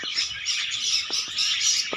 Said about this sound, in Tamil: இங்கே பாருங்கள் இந்த பறவைகள் நம்மளாம் பார்க்கக்கூடியது